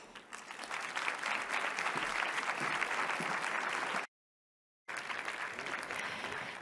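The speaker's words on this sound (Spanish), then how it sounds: "Le damos un aplauso." Conference audience applauding steadily, a dense and even wash of many hands clapping, broken by a short silent gap before the clapping resumes.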